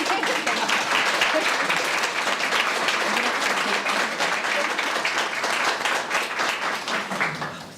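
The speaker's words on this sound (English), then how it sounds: "thank you for a round of applause, please" Audience applause at a sociology and social work awards ceremony, a steady, full round of clapping from a seated crowd that holds evenly loud for several seconds before tapering slightly at the end, with no voices over it.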